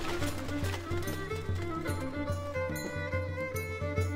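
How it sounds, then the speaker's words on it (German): Horses' hooves clip-clop in a steady, repeated beat in the medieval strategy video game Stronghold 2, under a layer of tonal game music. "Unsere Pferde sind bereit."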